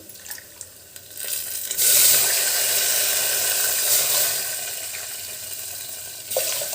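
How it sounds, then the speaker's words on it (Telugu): Water is poured into roasted rice in a pot for ghee pongal. After a few light clinks, a steady, close gushing pour starts and runs for several seconds, tapering near the end. "ఆరు గ్లాసులు నీళ్ళు పోస్తాను"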